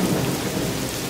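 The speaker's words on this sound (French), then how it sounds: "Gilles partit donc, aux prises avec la pluie et les vents violents." Stormy weather with rain and violent winds in an animated fairy tale, a brief dense roar of heavy rain and low rumbling thunder, loud and continuous with no voices.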